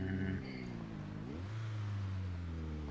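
A car engine in the Project Zomboid video game cranks and struggles to start, a steady mid-pitched droning whir that rises and falls in tone, loud and continuous with no talk over it.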